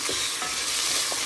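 Chicken breast cubes are stirred in a hot pan for kabsa rice, a bright continuous sizzle with soft periodic scraping strokes, close and loud, no voices.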